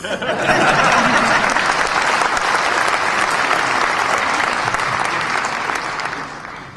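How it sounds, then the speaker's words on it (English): Rotary conference audience in a large hall applauding, a sustained, dense wave of clapping that swells early, holds steady, then tapers slightly, with a few faint chuckles mixed in. "I think if you want to clap, you should clap."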